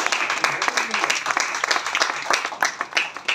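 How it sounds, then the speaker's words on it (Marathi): Loud audience applause at a grand poetry festival in honour of the event organizers: a dense, steady clatter of many hands clapping that runs through the whole moment without a break. "त्या आयोजकांसाठी एकदा जोरदार टाळ्या झाल्या पाहिजे"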